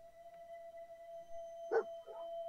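Dogmeat, the companion dog in Fallout 4, gives one short bark and then a softer second yelp, moderately loud over a steady electronic hum in an otherwise quiet scene.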